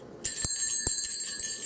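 A small bell tied on a ribbon and shaken by a baby jingles in bright metallic bursts with a steady ringing tone, starting abruptly and continuing with irregular shakes, close and fairly loud.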